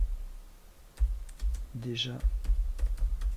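Computer keyboard typing in a series of scattered light clicks with short pauses between them, mixed with a brief spoken word and low background hum.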